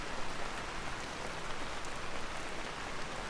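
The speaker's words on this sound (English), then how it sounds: "I can't believe it's raining here." Steady rain falls in the survival game Vintage Story, a soft, even hiss of drops with no voices and no pauses.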